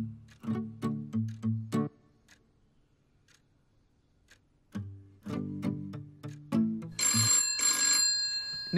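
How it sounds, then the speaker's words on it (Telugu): An indoor telephone ringing in repeated short trills: one cluster of rings, a quiet pause, then another cluster, ending in a brighter, more continuous electronic ringing. "బాను కాల్ చేస్తుంది."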